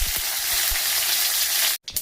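Steady dense sizzling of mustard seeds and curry leaves frying in hot oil, with a few low pops early on, cutting out abruptly near the end.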